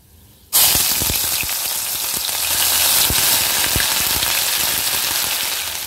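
Grated ginger hits hot oil, with bay leaves, in a pan for a Bengali cauliflower roast, setting off a sudden loud, steady sizzle and crackle that holds for several seconds, with scattered pops and no talking.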